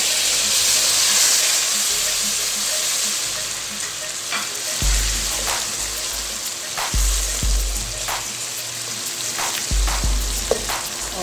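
Meat browning in a pot for a potato and meat curry, a steady loud sizzle and hiss with occasional stirring scrapes and clatter throughout.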